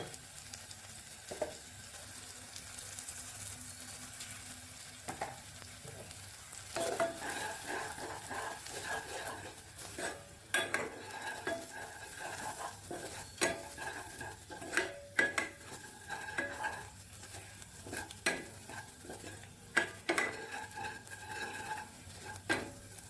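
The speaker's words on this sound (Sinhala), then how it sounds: "මේ විදිහට ඔක්කොම ටික කලවම් කරගත්තට පස්සේ ටික වෙලාවක් තෙලෙන් මේක තෙම්පරාදු වෙන්න" Soya chunks and spices fry in hot oil with a steady low sizzle. A spoon scrapes and knocks against the pan in irregular strokes as the mixture is stirred.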